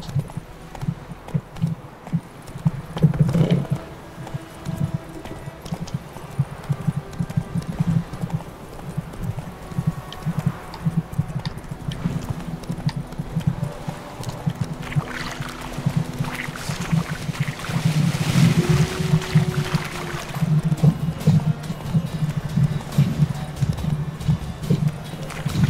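A horse gallops in The Witcher 3 video game, with rapid rhythmic hoofbeats running continuously and game music and ambience underneath.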